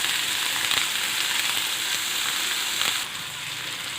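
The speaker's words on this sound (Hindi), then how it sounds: "इन पीसेस को अच्छी तरह से हम इसमें फ्राई करेंगे" Chicken pieces fry in a pan with a steady, bright sizzle and crackle, close and continuous, easing slightly toward the end.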